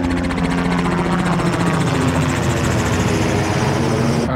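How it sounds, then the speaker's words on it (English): A helicopter's rotor thrums loudly and steadily throughout, a close, continuous beating drone with a deep engine rumble underneath. "I think that helicopter is landing there."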